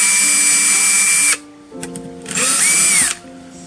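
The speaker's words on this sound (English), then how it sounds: "we just have our battery drill" A cordless drill whines loudly as it bores in, stops, then runs again in a second burst with a rising then falling pitch.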